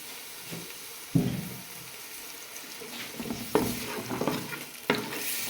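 Onion frying in oil in a pan, a steady low sizzle with several sharp stirring scrapes and clatters standing out from the hiss.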